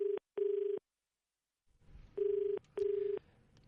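A telephone rings on a radio prank call, two pairs of electronic ring bursts sounding through the line, separated by a short silence with faint background noise creeping in before the second pair.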